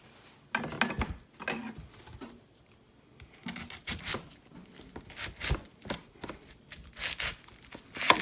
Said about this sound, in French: Puis il me reste le chou à couper.